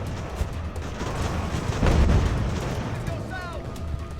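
A mortar and artillery barrage in the naval war game Ultimate Admiral: Age of Sail rumbles as a sustained wash of distant booms, swelling midway and then easing off.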